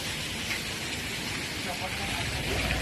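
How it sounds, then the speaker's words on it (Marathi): Steady, dense rainfall makes a constant hiss without a break, close and fairly loud. "आता बरोबर पाऊस चालू आहे"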